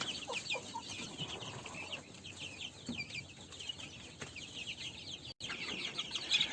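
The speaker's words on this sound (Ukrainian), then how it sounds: "у мене поживають тут курчата фавероль, яким уже місяць" Month-old Faverolles chicks peeping and chirping in their pen, a busy run of high, overlapping calls with a soft flutter of wings, close and without voices.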